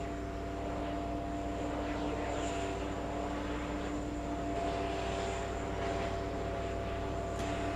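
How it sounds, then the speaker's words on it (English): An Embraer E175 airliner slowing down on runway 4 Left at JFK, its engines a steady, distant broadband roar with faint tonal whine, continuous and unbroken without talk. "we have an E175. It looks like it's slowing down on 4 left"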